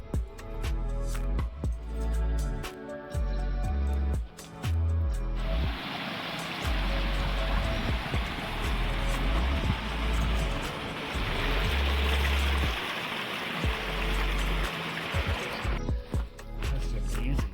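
A mountain stream flowing past volcanic ground on an alpine hiking trail in New Zealand, a steady broadband rush of water that swells in for about ten seconds mid-clip, with music and trail sounds around it.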